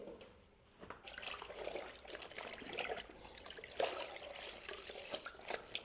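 Water sloshing and splashing close by as a fabric suit is swished and lifted while rinsed in clean water, with irregular bursts of dripping and trickling throughout.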